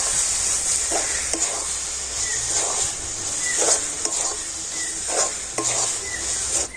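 Raw mango semolina barfi mixture stirred in a pan: repeated scraping strokes of a spoon over a constant soft hiss and faint sizzle, close up, no voices.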